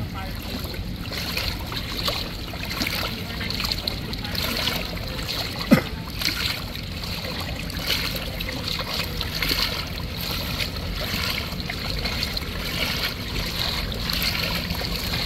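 Vehicle driving through deep floodwater, a continuous rushing, churning wash of water with engine rumble, one sharp knock partway through, and faint voices in the background.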